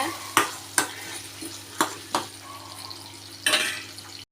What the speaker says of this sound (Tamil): நம்ம இடித்து வச்சுருக்க பூண்டு வெங்காயத்தை நல்லா ஆட் பண்ணிடலாம் ஆட் பண்ணியாச்சு நல்லா வதக்கி விட்டுறலாம் வாங்க